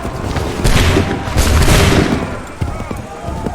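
Musket volley from soldiers in the Assassin's Creed III game, a loud burst of overlapping gunshots with rumbling booms, followed by a second volley and a few scattered later shots.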